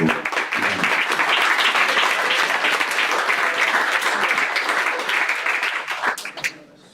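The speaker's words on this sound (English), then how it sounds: "let's give a big round of applause to" Audience applause at a Rust programming meetup, a sustained, fairly close burst of many hands clapping for about six seconds before tapering off.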